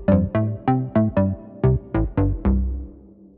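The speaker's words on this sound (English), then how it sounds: "It's a quite really common sound in progressive houses, like square wave driven, a little bit like FMs inside it." A square-wave-driven progressive house synth preset with an FM tinge plays nine punchy, evenly spaced stabbed notes with bright harmonics, the last one ringing out into a fading tail.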